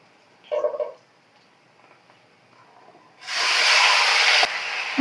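Beetroot hits a pan of browned fried onion and garlic with a sudden loud sizzle that hisses steadily for over a second, after quieter kitchen clatter and faint handling sounds.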